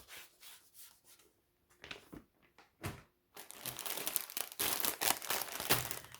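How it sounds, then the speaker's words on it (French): Packaged embroidery thread colours unwrapped by hand, giving close crinkling and rubbing of plastic wrap in scattered bursts that build into a dense, continuous rustle. "Je vais vous déballer les couleurs pour vous montrer"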